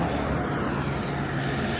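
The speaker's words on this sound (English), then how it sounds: "Sheriff helicopter." A loud, steady sheriff helicopter drone fills the air overhead near the coast at Rancho Palos Verdes, California, continuous and unbroken throughout.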